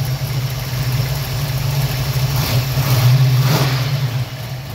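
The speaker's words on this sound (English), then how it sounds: "Let me do another little walk around with the car running." A 1966 Ford Fairlane 500 two-door hardtop engine runs at a steady idle with a low, even rumble and a slight swell near the middle, heard close under the open hood.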